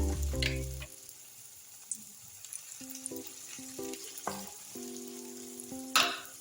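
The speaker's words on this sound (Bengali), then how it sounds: "আবারও হাফ চামচ তেল দিয়ে দিলাম। দেখো আমার ব্যাটার দিয়ে দিলাম।" Batter cooking in a little oil in a pan sizzles softly and unevenly, broken by several brief clinks and scrapes of a utensil, with a louder burst of sizzle near the end.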